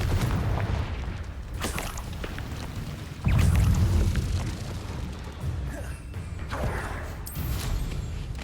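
The Confringo spell in the video game Hogwarts Legacy bursts in a deep, rumbling explosion partway through, set amid a bed of game ambience and softer crackling impacts.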